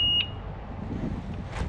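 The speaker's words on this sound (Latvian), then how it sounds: "Signalizācija." A motorcycle alarm system gives a single sharp, close electronic beep at the start, followed by faint background noise.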